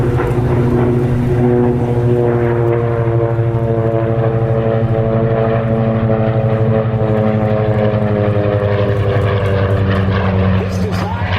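Curtiss SB2C Helldiver diving past at a 2012 joint service air show, a loud, steady propeller-engine drone with rising and falling pitch that fills the whole stretch, with an announcer's voice partly under it.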